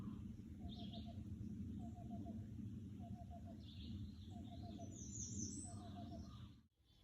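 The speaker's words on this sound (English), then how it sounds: "Oh, I hear the cuckoo again." A cuckoo calls in a garden, its short repeated phrases coming at regular intervals, faint and distant over a quiet outdoor background.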